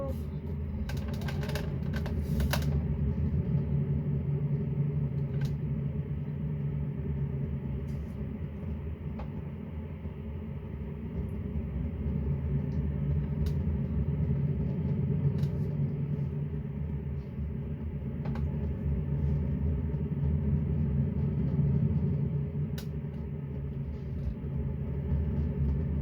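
Deep, steady engine rumble from a heavy truck in Euro Truck Simulator 2, pulling away on a closed circuit and holding a low droning tone throughout with no talk.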